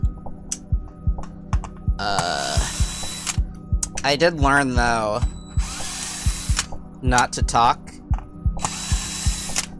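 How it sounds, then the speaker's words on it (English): A power drill whirs in short repeated bursts during a mechanical piano keyboard teardown and repair on a workbench, with clicks and taps between bursts and someone talking in between. "Let me know if like the drill sounds are like too loud."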